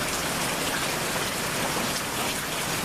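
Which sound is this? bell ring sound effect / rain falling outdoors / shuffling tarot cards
rain falling outdoors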